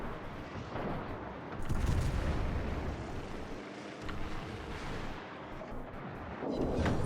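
The guns of the USS Anchorage, a warship in a naval video game, fire at an enemy ship as a string of heavy booms and rumbling blasts repeating over several seconds against a constant low roar, with no talk.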